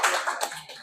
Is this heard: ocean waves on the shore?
no